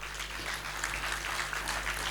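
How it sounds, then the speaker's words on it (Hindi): An audience applauds steadily for the whole short stretch, a faint, even patter of many hands with no voices standing out. "बहुत तालियों के साथ।"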